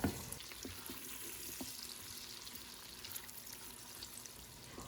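Onions sautéing in an Instant Pot while they soften for a cauliflower and potato soup, giving a steady, soft sizzle and hiss with faint clicks, close and even throughout, with no talking.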